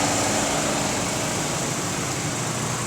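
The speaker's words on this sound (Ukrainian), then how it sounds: "Ось це генератор дизельний" A diesel generator runs steadily nearby, a dense continuous engine drone that stays loud and even throughout, with no voices.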